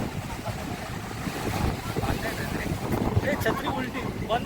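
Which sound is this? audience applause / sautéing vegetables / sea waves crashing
sea waves crashing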